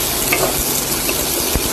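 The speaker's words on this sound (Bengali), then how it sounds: "পেঁয়াজটাকে ফ্রাই করবো" Onions fry in oil in a wok, a close, steady sizzle broken by a few scraping stirs and soft knocks, with no voices.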